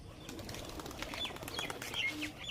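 Pigeons, Nazra Kaldum and Chini Kaldum breeds, lift off inside a loft with a steady flurry of flapping wings, mixed with faint chirps and coos.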